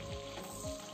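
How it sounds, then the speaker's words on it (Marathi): Cashews and almonds frying in butter and oil in a kadai, a dense, even sizzle that holds steady through a brief moment. "आपण काजू आणि बदाम थोडेसे फ्राय करून घेऊया."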